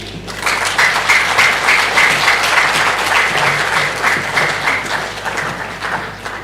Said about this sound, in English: another excellent round of applause for Ms. Precious for taking us through that